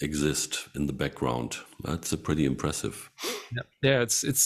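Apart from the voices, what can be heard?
None of the usual background noises is heard.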